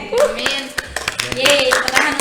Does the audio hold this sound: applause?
yes